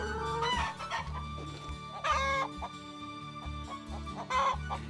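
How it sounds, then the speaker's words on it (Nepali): Egg-laying layer hens on a cooperative farm cluck repeatedly in uneven bursts, with a few louder squawks standing out near the start, middle and end, and no talking over them. "फुल पार्ने लेयर्स कुखुरा पनि सहकारीका सदस्यको रोजाइमा परेको छ"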